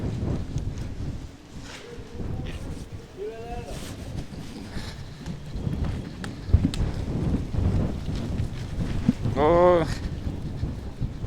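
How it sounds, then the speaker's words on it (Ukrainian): Wind gusts along a city street, producing a steady broadband roar against the microphone that swells toward the end, with people's voices briefly heard underneath. "Це ми в якусь вітряну вулицю потрапили. Ой, тут вітер продуває."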